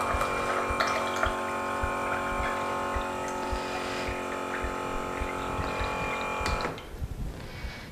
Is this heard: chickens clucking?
no